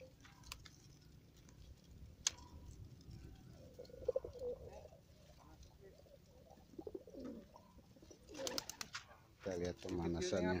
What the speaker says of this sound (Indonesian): Ini burung-burung baru.